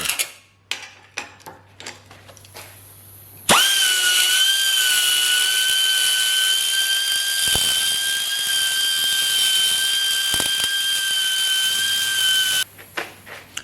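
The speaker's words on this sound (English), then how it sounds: "I'm going to use an air grinder, die grinder, to just trim it back to the line" An air-powered die grinder with a tungsten carbide bit trims metal, its steady, loud, high-pitched whine holding for about nine seconds, preceded and followed by quieter shop clatter.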